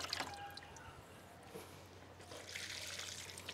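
Water mixed with pseudomonas is poured over potted table rose plants, a continuous splashing trickle with dribbles and soft wet squishes, close by and moderately loud.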